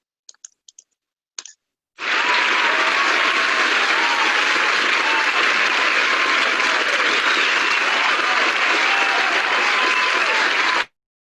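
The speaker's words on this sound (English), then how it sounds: "That was great applause" A few faint clicks, then a dense, uniform burst of applause for an educator breakout presenter starts abruptly and holds loud and steady for about nine seconds before cutting off sharply.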